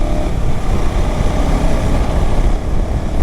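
A car climbing a winding ghat road in the Sahyadri hills, its engine droning loud and steady with constant road and wind rumble and no voices.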